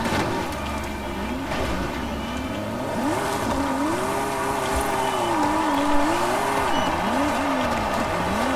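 A Hellcat muscle car in a racing video game revs hard and holds a wavering, rising and falling engine note while drifting, continuous and loud from start to finish, with faint tire squeal beneath.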